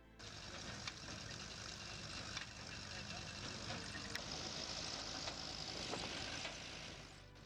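Harris 701 baler powered by its own standard petrol TVO engine, running steadily and fairly loud throughout with a continuous mechanical chug and clatter, some sharp knocks rising above it.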